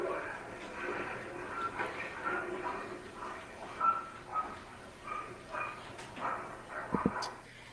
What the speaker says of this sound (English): I mean, a dog barking.